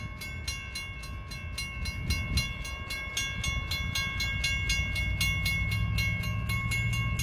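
A northbound train rolls past close by, a loud steady rumble with a rapid regular clickety-clack of wheels over rail joints and a sustained high tonal ring, building slightly as it goes.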